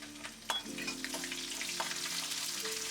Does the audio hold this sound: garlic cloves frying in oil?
yes